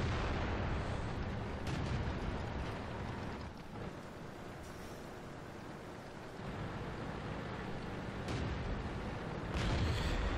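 A 120mm tank gun on a T28 Prototype fires in World of Tanks, heavy booming blasts over a constant loud rumbling battle din throughout, with sharper reports near the start and end.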